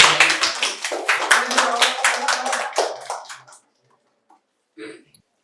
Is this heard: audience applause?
yes